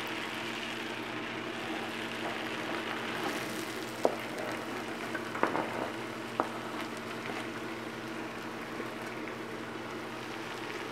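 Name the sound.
butter frying in hot skillet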